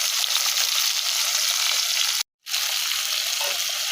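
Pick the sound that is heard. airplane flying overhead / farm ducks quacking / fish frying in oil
fish frying in oil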